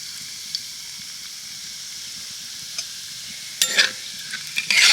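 Cumin seeds, fennel seeds and asafoetida sizzle in hot oil in a pan, a steady soft frying hiss with a few sharper crackles and clinks near the end, close and heard without talk.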